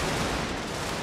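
Massed musket volleys from a Russian army in a Total War battle, a continuous loud wash of overlapping gunfire crackle with no pauses.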